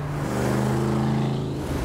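A 1960s Mercury with a 2.5-inch stainless exhaust and Flowmaster mufflers runs close by, its deep, throaty engine holding a steady, loud rumble throughout with no voices over it.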